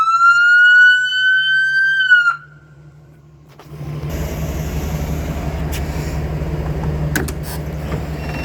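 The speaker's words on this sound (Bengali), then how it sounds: "আমি এখন একটু সাইরেনটা বাজিয়ে শোনাবো আপনাদেরকে।" A GMC ambulance siren sounds loud and near, a rising electronic wail that breaks off after about two seconds. After a pause, a broadband mechanical rumble and hiss continue, with a few sharp clicks.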